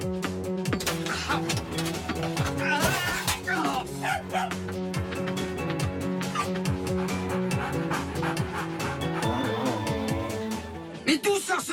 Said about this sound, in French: Mais d'où sort ce chien?